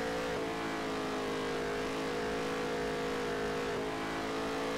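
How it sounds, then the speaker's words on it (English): A NASCAR race car in a video game drones steadily and loud as its engine bogs down coming out of a corner, with other cars' engines layered close by. "they're losing it as the car bogs down coming out of the corner"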